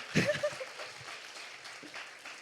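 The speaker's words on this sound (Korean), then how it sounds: "박수 계속 쳐주세요, 여러분" A church youth congregation claps during a welcome at a worship service, a moderate spread of applause under a brief voice at the start, continuing at an even level.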